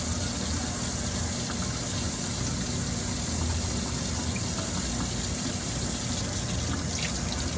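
Tap water runs steadily over frozen king crab legs, a constant hissing splash with no breaks, close and fairly loud, with no talking.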